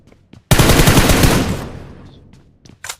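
A loud automatic burst of gunfire in the PUBG Mobile battle royale game on the Miramar map rattles out in one sustained volley about a second long, then fades, with a few faint clicks afterward.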